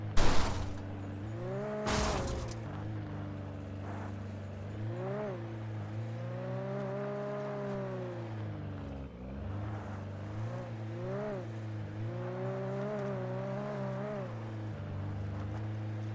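A car engine in the Alan Wake Remastered video game: after a couple of sharp bangs at the start, the engine hums steadily and rises and falls in pitch as the car is driven, throttle swelling at intervals.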